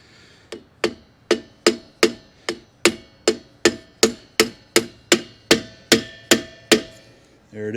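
A homemade driver tool is struck about fifteen times in an even rhythm, hammering a grease cap onto an RV brake hub. The sharp, ringing metallic knocks are close and clear, with no talk.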